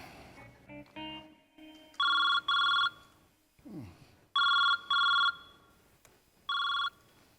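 A telephone rings for an incoming call in three loud double bursts of electronic trilling, each pair of rings separated by brief pauses, with some faint background sounds between them and no talking.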